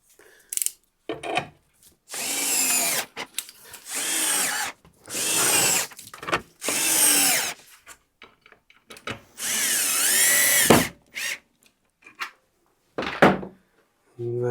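A power drill drives slightly longer panhead screws into a workbench in repeated close, loud bursts of whining, ramping pitch separated by short silences.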